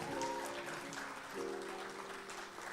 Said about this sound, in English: So thank you for those applause.